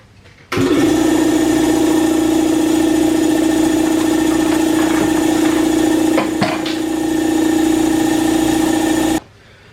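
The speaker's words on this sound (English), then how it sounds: "Now you're going to want an air compressor here. So this is the old girl I use." An old air compressor motor running loud and close, a steady droning hum that starts abruptly, holds evenly for about nine seconds with a small hitch partway, then cuts off.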